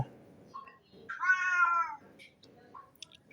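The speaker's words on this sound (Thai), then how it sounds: "แมวยังเซ็งเลยแมวยังว้าใส่เราเลย" A nearby cat lets out a clear, drawn-out meow lasting about a second, with faint short chirps and mews around it against a quiet background.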